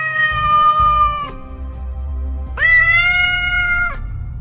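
Two long, drawn-out cat meows with a pause between them, loud and close, with a faint low rumble underneath.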